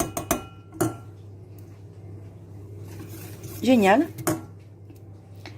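A utensil stirs a white wine sauce made with ordinary dry white wine for oven-baked rabbit. A few sharp clinks and scrapes against the dish come at the start, then it goes quieter and a voice speaks briefly.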